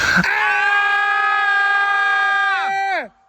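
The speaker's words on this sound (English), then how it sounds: "we're gonna scream, best blood-curdling scream" A group of people scream together in one long, loud, sustained blood-curdling shriek lasting about three seconds before it breaks off and fades, echoing, at the Friday the 13th filming location.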